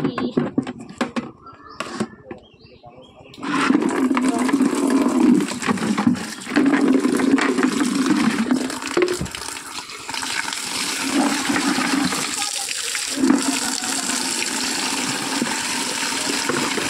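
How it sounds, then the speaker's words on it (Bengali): Water pouring in a steady, forceful rush into a bucket as it fills, the flow continuous and fairly loud after a few seconds of quieter shuffling, with brief dips as the stream shifts. "আমি জল নিচ্ছি"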